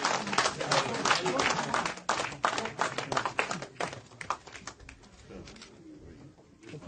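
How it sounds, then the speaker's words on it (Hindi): Applause greets a new member joining the Bharatiya Janata Party at a political gathering in Mendhar, Poonch; dense crowd clapping rings out loud and steady, then thins and fades toward the end, with voices mixed in. "जोरदार तालियों से"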